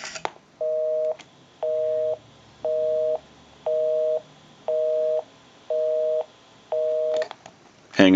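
Repeated busy signal from a restored and converted PTT business telephone: seven evenly spaced tone bursts, each about half a second, in a steady on-off rhythm, clear and close, bracketed by handset clicks at start and end.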